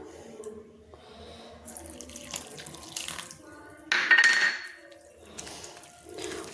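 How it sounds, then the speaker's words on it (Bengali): Water is poured from a tap or jug into flour dough for a street-style petai paratha, with trickling splashes in short bursts and a louder pour midway, close by. "আরও জলের প্রয়োজন, তাই আমি জল দিচ্ছি আবারও"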